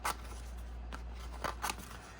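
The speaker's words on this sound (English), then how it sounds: "I think I want to cut this one out." Scissors snipping out a small paper element for a travel planner spread, a few quiet crisp cuts spaced apart, close and alone.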